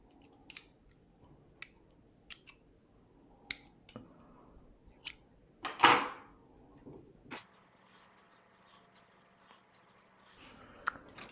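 Scissors snip a length of yarn pulled from the carriage of an LK150 knitting machine, giving several crisp separate clicks and one louder cut, close up in a quiet room, followed by a low steady hum.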